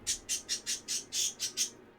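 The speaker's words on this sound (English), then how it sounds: "All right, birds." A bird repeats a harsh, raspy call in a quick, regular series of about eight notes, faint and fairly distant, with no voices.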